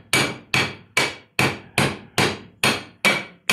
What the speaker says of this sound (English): Now hold it with this hand and then hammer with that.